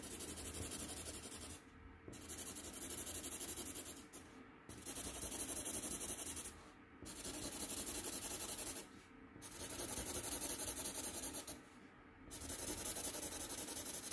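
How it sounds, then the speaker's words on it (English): Black marker filling in a thick line on paper, a steady close scratchy rubbing that comes in long strokes separated by short pauses, quiet and alone. "I'm going to fill that with my black marker."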